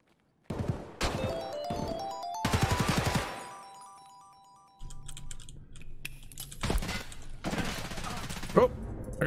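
Bursts of automatic gunfire in Escape from Tarkov, several sharp rapid volleys in the first few seconds, then quieter clicks and further shots, with tonal game sounds underneath.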